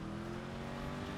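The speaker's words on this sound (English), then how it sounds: "Cars are always loud." A car in a GTA San Andreas roleplay game hums with a steady engine drone and tire noise, loud and continuous for a brief moment.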